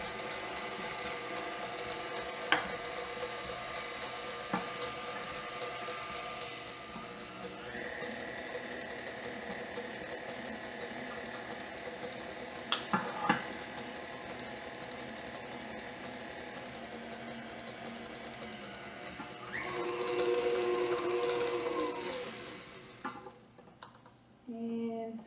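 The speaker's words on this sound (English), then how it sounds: "We're gonna beat in our eggs, and then we're gonna switch to the paddle." A stand mixer beats eggs into sweet potato pound cake batter, giving a steady, quiet mechanical whir with faint rhythmic clicking that swells louder and busier near the end.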